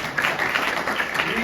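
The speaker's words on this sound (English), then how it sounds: "You guys gotta clap for that." An audience at a monthly meeting claps together in a steady wash of applause, moderately loud and continuous throughout.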